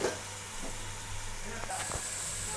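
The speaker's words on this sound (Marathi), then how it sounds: "धुवून घेतलेल्या भाज्या टाकते." Washed vegetables land in a hot pan, giving a soft steady sizzle with a few faint stirring clicks, quiet and close.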